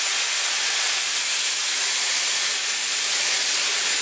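A Dyson Airwrap hair styler blows a steady, close airy hiss, constant and fairly loud throughout with no breaks.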